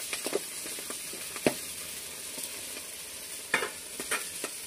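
Green chillies and curry leaves are dry-roasted in a kadhai for gavar thecha, a soft sizzle broken by scattered scrapes and taps as the pan is stirred.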